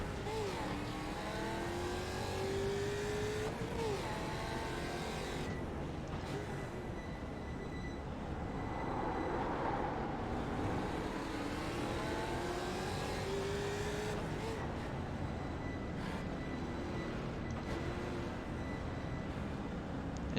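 Race cars circle the track in the iRacing video game, Skip Barber Mustang Cup at Sebring Club, a continuous dense engine roar with shifting pitches as several cars run together, steady and unbroken.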